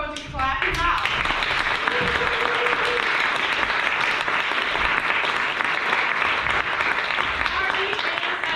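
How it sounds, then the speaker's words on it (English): Loud, steady applause and clapping fill the room as a colleague is clapped out, dense and continuous from start to end with a few voices briefly audible early on. "I'm going to clap him out."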